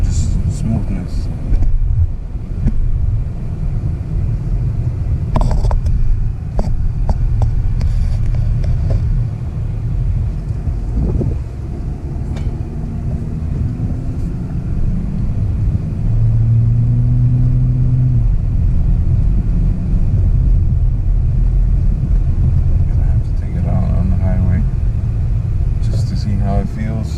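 Acura MDX driving after a transmission fluid change, a steady low engine and road rumble through the cabin with smooth gear shifts and a slight rise in engine pitch, under continuous talk from people inside.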